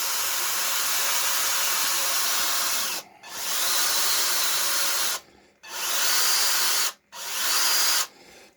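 A rotary power tool bit grinds and smooths the edges of a block of carved Spam. It gives a loud, steady whirring drone in several long bursts, each broken by a short pause.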